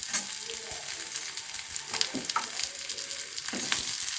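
Chopped onion, garlic and ginger fry in hot oil for an egg tadka with masoor dal, making a continuous close hiss with occasional light stirring knocks and no speech.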